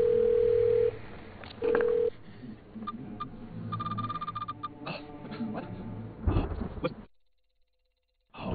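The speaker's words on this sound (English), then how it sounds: "click on Bumblebee's number to call her" A phone in a video game dials Bumblebee's number, with a steady tone, short dial beeps and a ringing buzz heard softly and close before the line goes silent.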